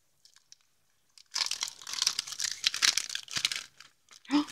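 A plastic packet of Christmas paper die-cuts is torn open and crinkled, with a few faint rustles at first, then a loud burst of crackling and tearing for about three seconds, up close.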